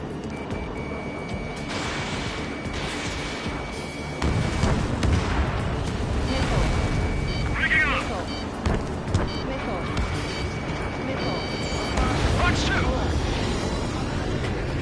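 Booming explosions and bursts of gunfire from a PS4 combat game during a missile attack on a convoy, dense and continuous, with a beeping warning tone and voices talking over the noise.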